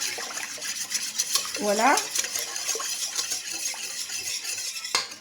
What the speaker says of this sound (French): On va diluer ça dans l'eau.